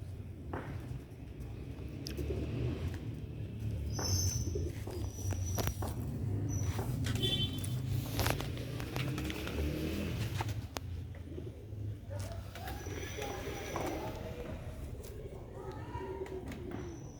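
Sialkoti silver-roof pigeons coo in a low, steady murmur close by, mixed with rustling, wing shuffles and light footsteps in the coop, plus occasional sharper chirps.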